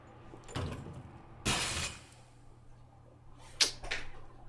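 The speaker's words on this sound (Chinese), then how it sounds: "听一下声音，到底是哪边的玻璃碎了？" Glass breaking in Resident Evil 2 Remake: three separate sharp crashing bursts over a quiet low hum, the middle one longest and loudest, the last a bright shattering crack with a short tail.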